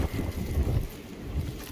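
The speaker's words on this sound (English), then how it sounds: "there's more wind up here. I don't know if you can hear the difference." Wind blows across an open outdoor spot on a cold morning near an animal pen, a steady low rumble of buffeting gusts against the microphone that swells and eases.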